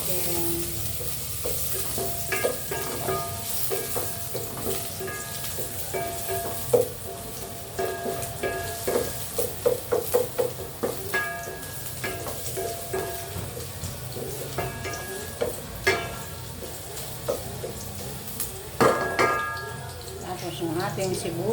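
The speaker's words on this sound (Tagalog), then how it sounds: "Ating luya, igisa natin." Ginger sautéed in a pan sizzles steadily while a utensil stirs and clinks against the metal in scattered taps, close and continuous throughout.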